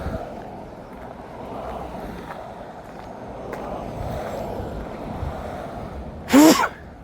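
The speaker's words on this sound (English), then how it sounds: "sneezing." A single short, sharp sneeze from a dog bursts out near the end, over a steady low background rumble.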